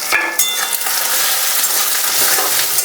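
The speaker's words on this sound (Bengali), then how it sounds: "এবার আমি এতে আদা বাটাটা দিলাম, রসুন বাটাটাও দিলাম, দিয়ে আবার ভাজতে হবে" Ginger and garlic paste fry in a pan, a bright, steady sizzle with a few clinks and scrapes near the start, close by and with no voices.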